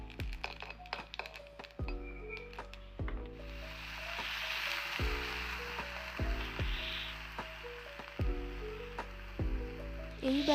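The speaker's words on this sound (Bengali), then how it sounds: "তেল গরম হতেই ওতে একটি শুকনো লঙ্কা ও 1 চামচ পাঁচফোড়ন দিয়ে ভালোভাবে" Dried red chilli and panch phoron spices frying in hot mustard oil in a kadai, a continuous close sizzle with a few crackles, sounding alone beneath some intermittent tonal background sounds.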